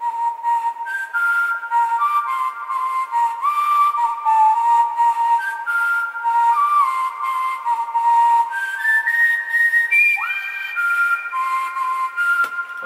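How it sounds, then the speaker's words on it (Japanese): A bright whistle plays a steady lead melody, sliding between held notes with clean tone and continuous loudness throughout. "今回リードメロディーはホイッスルですね、ホイッスル。"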